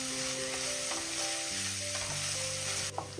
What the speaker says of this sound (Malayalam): ഇനി ഇഞ്ചിയുടെയും വെളുത്തുള്ളിയുടെയും ആ പച്ച ടേസ്റ്റ് ഒന്ന് മാറുന്ന വരെ ഒന്ന് ഒരു 10 സെക്കൻഡ് ഇളക്കി കൊടുക്കുക